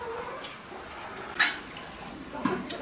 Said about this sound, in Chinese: 然后把这个萝卜切成块